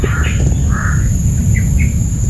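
Black crow-like birds summoned in a horror video game caw in harsh, scattered calls over a loud, steady rumbling drone with a high whine, all at close range.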